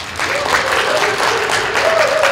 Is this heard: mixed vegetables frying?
no